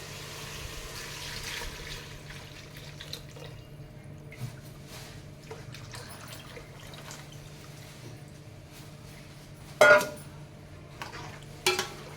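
Intermittent scraping and sloshing of a spoon stirring thick Chettinad fish curry in a pot, with a low steady hum and a couple of louder clanks near the end.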